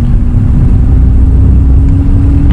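An automatic car drives along and shifts into D3, its engine giving a steady, close, mid-pitched drone with a constant hum and no clear jolt or break.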